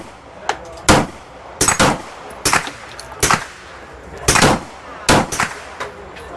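Pistol shots ring out at an outdoor shooting range during a range-day event, roughly nine loud, sharp cracks fired at an irregular, unhurried pace with brief echoing tails between them.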